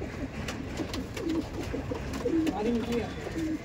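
Soft, repeated coos of Madrasi pigeons rise and fall over a steady low background murmur, several calls overlapping in the second half.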